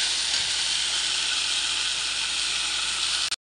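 Mutton frying for kosha mutton sizzles in a loud, steady, close-up hiss that holds evenly for over three seconds, then cuts off abruptly near the end.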